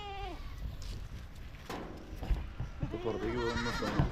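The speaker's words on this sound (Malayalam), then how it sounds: "ഈ ഒരു സ്പേസിലെ ആടുകളെയൊക്കെ കണ്ടില്ലേ" Canadian pygmy goats on a farm bleat in a few wavering calls, one near the start and a cluster toward the end. The bleats are fairly soft, over rustling background noise.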